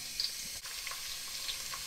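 Finely chopped onions fry in a pan for mutton pepper masala, a close steady hiss and crackle of sizzling oil that goes on unbroken, with a brief stir near the start.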